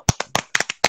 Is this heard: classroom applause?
yes